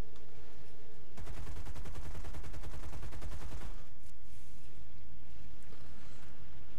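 Rapid anti-aircraft gunfire from ground guns in an aerial combat video game: a fast, loud burst of repeated shots lasting a couple of seconds, then fading into quieter ambient rumble.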